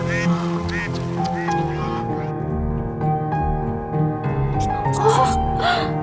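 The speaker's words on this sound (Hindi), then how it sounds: "ये बतख की आवाज है।" A duck quacks several times in a scene from the South Indian Hindi-dubbed film Pasanga 2, set in a village, heard over a continuous music bed with voices talking nearby.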